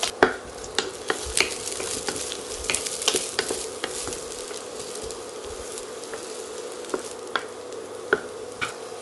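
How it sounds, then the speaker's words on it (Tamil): Brinjal pieces sauté in hot oil in a pan for a Tamil chutney served with idli and dosa, giving a steady close sizzle with scattered crackles and the occasional scrape of a stirring spoon, with no voices. "இப்போ இதை எண்ணெயில் போட்டு வதக்கிக்கணும்."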